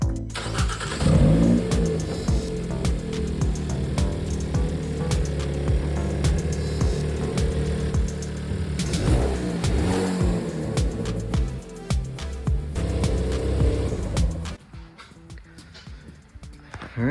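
2022 Hyundai Kona N with a blow-off valve fitted, its engine starting up and then revved repeatedly in loud, close bursts before settling to a quieter idle.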